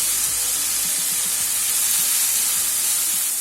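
Spices sizzling and frying in a pan for a quail egg curry, a steady close hiss with faint stirring clicks and no talk.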